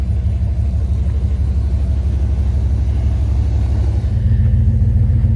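A lowered short-bed pickup towing a boat rumbles steadily up close, its engine drone deep and constant, with a slight shift in tone near the end.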